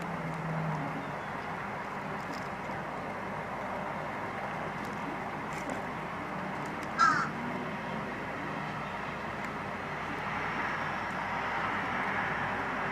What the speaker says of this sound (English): I'm hearing one squawking in the background